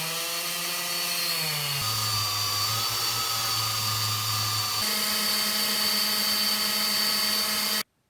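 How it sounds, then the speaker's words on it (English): A power drill runs steadily with a bit boring holes in wood for wooden spike knuckle dusters, its motor pitch dropping under load and then rising again before stopping abruptly at the end. "I'm going to use a drill bit that closely resembles the size and thickness of my wood peg"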